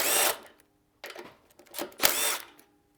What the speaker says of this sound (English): So what I'll do is remove the two nuts here